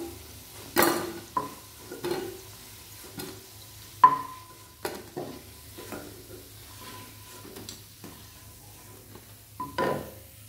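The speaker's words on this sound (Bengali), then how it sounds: "বাদ বাকি বড়াগুলো আমি সুন্দর করে ভেজে তুলব" Fish roe fritters fry in a pan with a soft, steady sizzle, broken by repeated sharp clinks and scrapes of a spatula stirring and lifting them, close and fairly quiet, with no talking.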